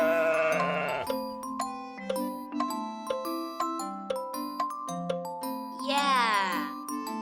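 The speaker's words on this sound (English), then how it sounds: "I see a sheep." A sheep on a farm bleats in a wavering cry at the start and again near the end, set against a bright, plinking tune of chiming notes.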